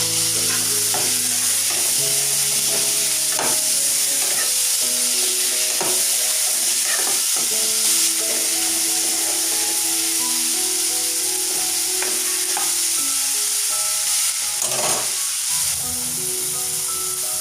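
Onions, bay leaves and chopped tomatoes fry for a paneer dish, giving a steady, close sizzle with scraping stirs throughout and no talking.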